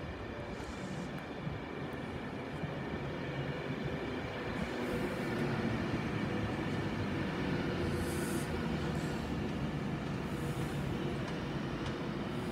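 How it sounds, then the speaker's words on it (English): A Virgin Trains Pendolino from Manchester Piccadilly, bound for London Euston, pulls into Watford Junction on the West Coast Main Line with a steady, loud rolling rumble and wheel noise that swells slightly midway and holds alone without voices. "forming a Virgin Trains Pendolino service to London Euston"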